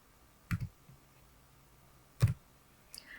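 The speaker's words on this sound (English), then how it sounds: "Then we press the enter key." A computer keyboard in Excel gives a few sharp, quiet key clicks: a double tap, a pause, another firm press like the enter key, then a faint last click, all alone in a hushed room.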